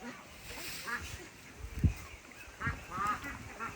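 Peking ducks at feeding time, with a few scattered quacks and honks rising over low background chatter and movement, loudest near the middle.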